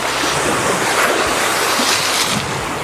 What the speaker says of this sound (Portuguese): Fica com o barulhinho das ondas do mar aí.